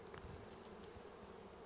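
Honeybees from a swarm caught a week earlier, buzzing at their hive in a dense, steady hum with individual bees droning close past, no voices.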